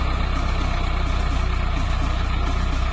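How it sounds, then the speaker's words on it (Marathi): A tractor levelling a patch of ground for a cricket pitch runs with a continuous heavy engine drone, steady and close, with no voices. "ट्रॅक्टरचं काम चालू आहे जोरात"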